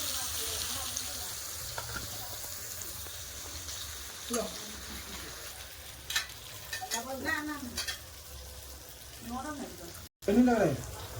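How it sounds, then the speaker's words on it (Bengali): Kakrol (spiny gourd) frying in hot oil, with a soft continuous sizzle and occasional stirring scrapes under intermittent talking voices. "তেল আছে এতে ভেজে নেবো কাঁকরোল"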